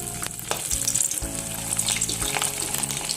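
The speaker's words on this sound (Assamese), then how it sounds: "এতিয়া মাছখিনি এটা এটাকৈ ফ্ৰাই কৰিম ধুনীয়াকৈ।" Puthi fish sizzle and crackle in hot oil in a pan, a loud, continuous frying hiss with close, brief stirring clatters and no voices.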